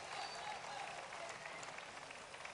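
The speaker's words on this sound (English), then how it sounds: "Give him a round of applause." An audience applauds a shearer at the Golden Shears 2014 open shearing competition, sustained but faint clapping from a crowd with a commentator's voice partly mixed in.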